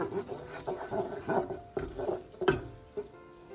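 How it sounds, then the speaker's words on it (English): Ethiopian goat and caramelized onion stew stirred in a pot, a series of close, rhythmic scraping strokes with a light sizzle beneath. "I'm going to stir this around, cook it for another 10 minutes."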